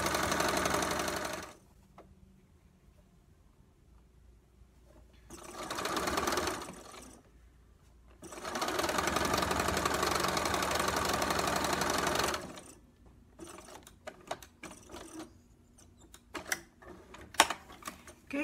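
A sewing machine stitches fabric pieces together in three loud, close bursts of rapid mechanical whirring. Quiet gaps fall between the bursts, and handling clicks and taps follow at the end.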